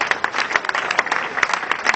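Scattered clapping from a political audience during a speech on the eve of the Federal Convention, distinct claps repeating irregularly at moderate loudness with no talk over them.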